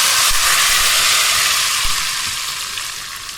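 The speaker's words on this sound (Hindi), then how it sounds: "इसमें अब मैं शामिल कर दूंगी बघार को।" Loud, close sizzling as hot oil tempering hits cooked masoor lentils, a bright crackling hiss that slowly fades.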